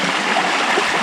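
Creek water flows in a brief, steady wash of broadband rushing and trickling, close and uniform, with no voices.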